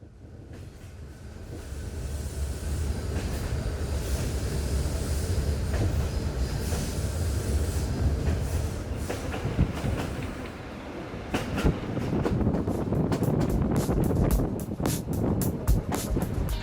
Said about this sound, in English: I caught a passenger train to the city of Plovdiv